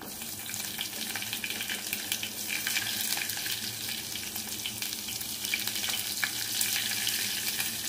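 Onions frying in oil as the tempering for pappu charu, a steady close sizzle with faint crackles and occasional stirring, running without pause and with no voices.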